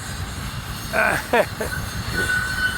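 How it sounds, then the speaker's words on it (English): The tail end of a very long FEC freight train rolls past, a steady rumble of railcars with a few short wheel squeals and a thin high whine riding over it. "All right, so here's the end of this train again."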